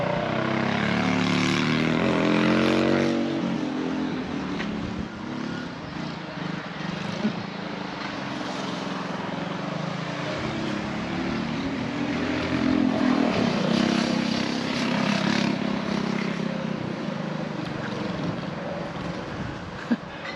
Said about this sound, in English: He's got this little go-kart.